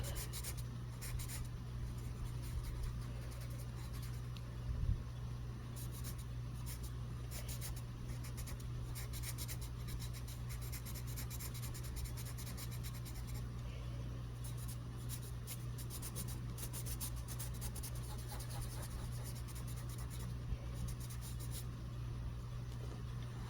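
Berol Prismacolor colored pencils from 1986 stroking over paper, a soft continuous scratchy rubbing that runs steadily throughout, close and quiet with no talk.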